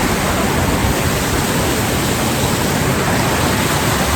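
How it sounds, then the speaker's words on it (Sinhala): A waterfall in the cold hills of Nuwara Eliya pours with a loud, dense, unbroken roar of rushing water, close and steady, with no voices. "මේ තියෙන්නේ ඇල්ල"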